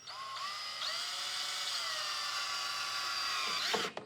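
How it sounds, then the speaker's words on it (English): A power drill whines steadily at high pitch for several seconds, grinding through a plastic panel on a Polaris off-road vehicle, then stops with a brief rattle at the end. "Just drill through the plastic and then stop, okay?"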